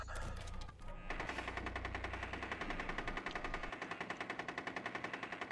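A light machine gun in a video game fires in a sustained rapid automatic burst, dense and continuous at first, then settling into a steady rattling stream of shots.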